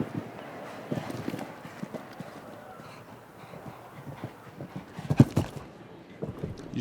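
Horse hooves on a Spruce Meadows show jumping course, a naturally quick horse moving at good ground speed, thud in an irregular, fairly close rhythm with a sharper, louder strike near the end.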